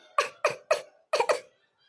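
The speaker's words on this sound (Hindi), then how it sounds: "ठंडी करिया पिराई लागे बहनी दीदी, खांसी आवे लगा था।" Five sharp coughs in quick succession, close to the microphone, in two short bursts separated by a brief pause.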